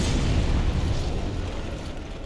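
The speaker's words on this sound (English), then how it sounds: "what's with the magic kaboom?" A magic blast in Dark Souls Remastered gives a deep, rumbling boom that stays heavy and continuous, fading only slightly over about two seconds, with no voices over it.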